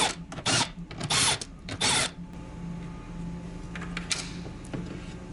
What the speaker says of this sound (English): we're gonna remove the 4 4mm bolts for the speaker